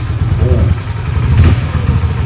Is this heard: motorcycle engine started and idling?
yes